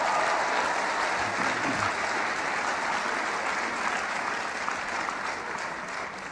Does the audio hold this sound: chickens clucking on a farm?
no